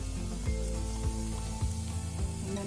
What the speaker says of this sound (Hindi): इसमें अब हम पापड़ी को डालेंगे और इसे हमें बिल्कुल मीडियम आंच पे, लो टू मीडियम फ्लेम पे तलना है